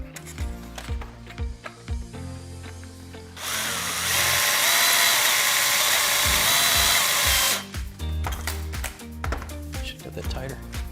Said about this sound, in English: From the factory, what they do is 9 times out of 10 it's riveted on. That's pretty easily removed.